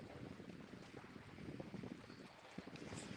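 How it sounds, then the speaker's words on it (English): Wind gusts across a lake during a bass fishing outing, a steady low rumble of microphone buffeting with faint water lapping against a boat, no talking. "It's a little windy out here, so I'm out here kind of fighting this wind."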